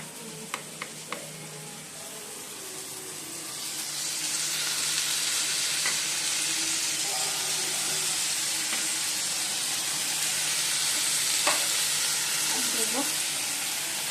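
Ginger paste and green chili sizzle and fry in a pan, a steady hiss that swells louder after a few seconds with faint stirring clinks, home kitchen cooking, no one speaking.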